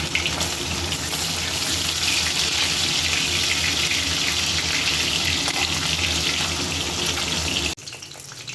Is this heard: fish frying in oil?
yes